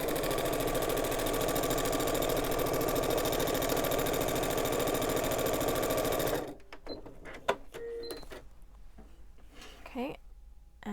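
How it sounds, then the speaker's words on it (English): A sewing machine stitches a straight line on foundation paper piecing, running loud and fast in a steady whir for about six seconds, then stops and leaves only small handling clicks and faint rustles. "just sewing along the straight line"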